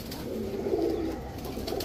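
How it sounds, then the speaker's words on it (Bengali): A female pigeon with a club tag on her leg coos softly in a low, steady murmur that rises slightly in the middle, close by and with no talking. "এই যে দেখেন চটবান একটা মাদি কবুতর"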